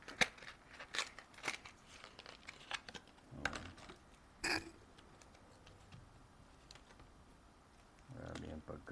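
Scissors snip and crunch through stiff plastic packaging of an Insta360 camera box, a few sharp cuts and crackles scattered among quieter handling noise, with brief speech.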